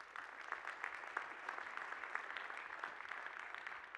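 Sustained applause from a large keynote audience at a Drupal developer conference in Amsterdam, a dense steady wash of many hands clapping with scattered louder claps, continuous for several seconds with no talk over it.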